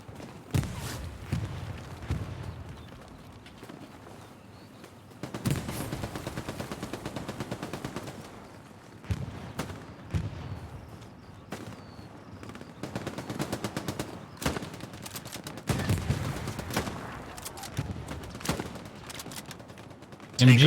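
Machine guns fire in a World War II battle in Hell Let Loose, with repeated long, dense bursts of rapid shots and a few single cracks. The shooting starts and stops over and over and is loud and near, with voices talking over it at times.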